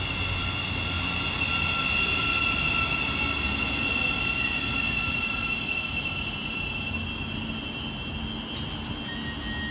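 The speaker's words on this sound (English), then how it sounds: "Next passing fast through the station for East Midlands Railway is 360105 and 360112" An East Midlands Railway Class 360 electric train pair rushes fast through Hendon station with a loud, continuous roar, whining motor tones and faint wheel squeal, steady throughout with no voices.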